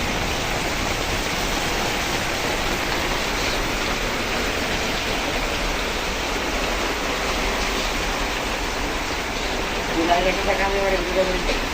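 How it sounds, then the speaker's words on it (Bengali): Heavy rain falls outside a flooded kitchen as a steady, loud, broadband roar without pause, and a brief voice surfaces faintly near the end. "বাইরে কি হারে বৃষ্টি হচ্ছে দেখুন আপনারা"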